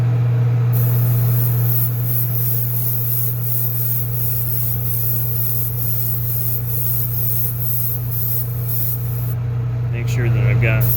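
A spray gun hisses clear coat onto a test spoon in one long, steady, loud blast of air and spray that runs nearly unbroken, with a low hum underneath and a brief clatter at the end.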